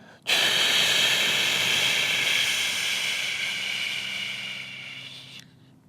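A long, deep exhalation during a yoga exercise, a steady, close breathy hiss lasting about five seconds and slowly fading before it stops. No one speaks.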